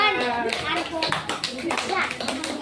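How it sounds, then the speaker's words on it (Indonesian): Schoolchildren clap together in a classroom, a quick burst of hand claps mixed with young voices talking over it. "Tepuk tangan untuk kita semua."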